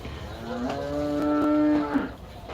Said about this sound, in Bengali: এটা হচ্ছে অস্ট্রেলিয়ান গরু